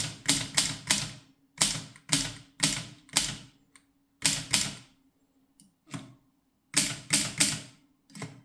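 An Imperial D manual typewriter clacks away in short bursts of sharp keystrokes, with brief pauses between groups and a faint carriage sound, close and alone.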